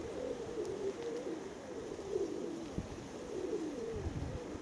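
Baku pigeons coo steadily in strong wind, a low throaty warble repeating close by over a constant rush of wind noise.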